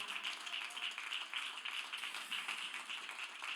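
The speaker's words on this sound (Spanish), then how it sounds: "denle un fuerte aplauso de alabanza al Señor" A church congregation claps in praise to the Lord, a dense, steady wash of many hands applauding together, fairly distant and even throughout, with no talk over it.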